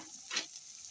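Chicken pieces with spice paste get stirred in a frying pan, a short close sizzle with one soft scrape of the spoon.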